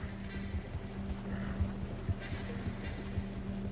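A horse in Red Dead Redemption 2 trots with a rhythmic, close clip-clop of hooves and a faint whinny mixed in, set against a low steady hum.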